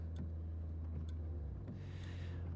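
A car drives along a snowy night road in Silent Hill: Shattered Memories, a steady low engine drone with faint road noise and no talk over it.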